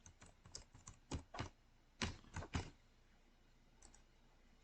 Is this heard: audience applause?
no